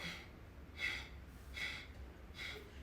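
Forceful nasal exhales from a kriya breathing exercise, three or four rhythmic hissing bursts under a second apart, close and fairly quiet with no talking.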